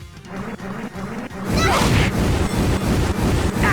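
A rapid barrage of video game explosions from Trails in the Sky the 3rd, with dense booms, crashes and whooshes that intensify partway through and continue loudly without pause.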